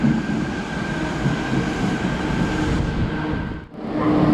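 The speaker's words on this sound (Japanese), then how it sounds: "まもなく一番乗り場に天神南行き電車が到着します。" A Nanakuma Line subway train rumbles loudly nearby as it arrives at a platform, its wheels droning steadily on the track, then briefly quiets before the roar swells again.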